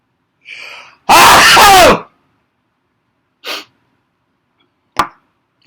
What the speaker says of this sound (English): At that moment, I sneezed.